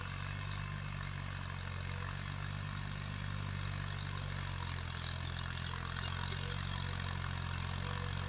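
A Ghazi tractor pulling a cultivator through a cotton field in Punjab runs with a steady, droning engine hum that stays constant and fairly close, with no voices.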